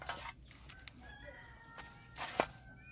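A rooster's crow with some clucking from chickens nearby, brief bright calls over a quiet outdoor background.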